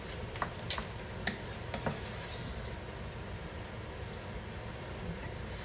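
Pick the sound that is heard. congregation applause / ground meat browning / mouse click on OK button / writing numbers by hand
ground meat browning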